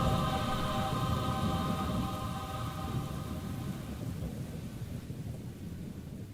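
Rolling thunder from a storm rumbles low and continuous, loud at first and slowly fading over several seconds, with faint rain hiss underneath.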